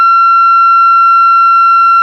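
Handheld radios, a Weircom WR88 and an Icom IC-T10, emit a loud, steady electronic receive tone, a pure sustained beep with faint overtones, heard alone for about two seconds.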